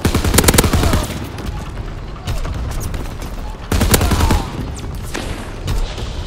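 Heavy gunfire from a Call of Duty WW2 War Mode battle: loud, dense bursts and rapid volleys overlapping with booming impacts, coming in waves with brief lulls between.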